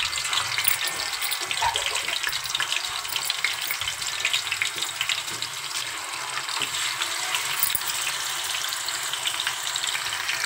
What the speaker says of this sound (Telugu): చూసారా అలా ఫ్రై అవుతుంది, చాలా బాగుంది